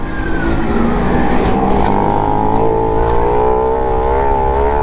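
A Honda Pop 110 motorcycle with no air filter and no mirrors, fitted with an inverted intake hose, revs loud and close. Its engine note holds steady and then rises slightly, with a raw buzzy drone throughout.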